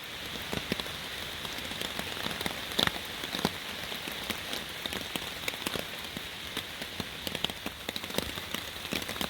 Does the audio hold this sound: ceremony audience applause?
no